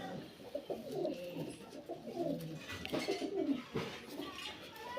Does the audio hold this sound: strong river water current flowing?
no